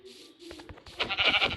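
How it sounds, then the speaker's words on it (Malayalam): A goat gives a short wavering bleat, then louder overlapping bleats follow from goats nearby, rising toward the end of a brief, close burst without talk. "ആടുകളെ കാണാൻ പാട്"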